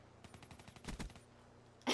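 Rapid Black Ops 3 gunfire, a quick run of close automatic shots that thins out, followed by a louder blast near the end; no talking.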